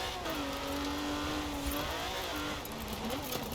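A rally car engine in Forza Horizon 4 revs continuously, rising and falling in pitch as it accelerates, loud and close throughout.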